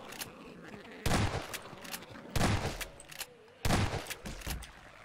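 Shotgun blasts in a Gmod horror map game, three loud booming shots spaced about a second apart, each one ringing out and fading, with faint background sound between them.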